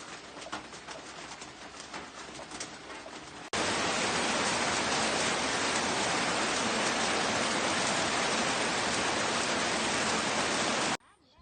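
Heavy rain pours down as a dense, even roar, loud and constant for most of the stretch, beginning abruptly after a quieter passage with faint bird calls and stopping sharply near the end.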